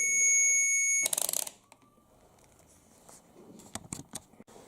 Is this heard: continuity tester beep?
yes